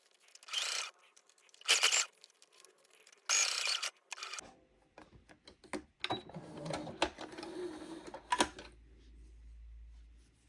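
A sewing machine runs a narrow double-turned hem in several short, loud bursts of rapid stitching. Quieter fabric handling and small mechanical clicks fill the pauses between runs.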